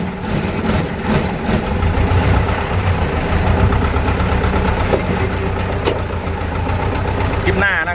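A wheel loader's heavy diesel engine rumbles steadily up close as the machine pulls away, with someone talking over it.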